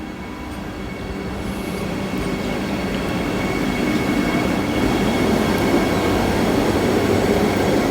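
Steady rumble of a Vande Bharat train pulling away, growing slightly louder with rolling wheel noise and faint rhythmic clatter, no voices.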